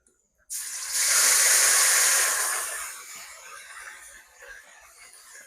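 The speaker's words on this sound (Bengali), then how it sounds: "আদা জিরার একটু ভাজা নিলাম" Ginger and cumin paste hits hot oil with a sudden loud hiss that peaks over a second or two, then gradually fades to a softer sizzle, close up and without talk.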